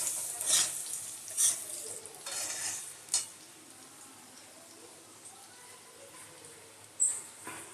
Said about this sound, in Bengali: উচ্ছেটা ভাজবো